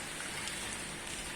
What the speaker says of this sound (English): Really heavy rain.